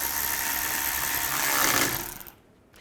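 Power tool tightening the front lower control arm bolts on a 2011-2015 Chevy Cruze: a steady, fairly loud whirring drive that holds for about two seconds, swells briefly, then cuts off.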